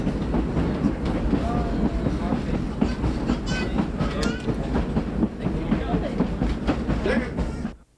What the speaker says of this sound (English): The interurban was a neat way to whiz between cities.